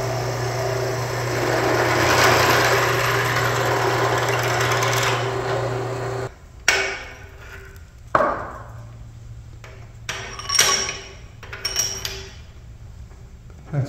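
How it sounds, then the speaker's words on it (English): A machine drill whirs steadily for several seconds as it drills down through a pipe, then stops. Metallic clinks and knocks follow as parts are handled. "put the pipe in there and drill right down through it"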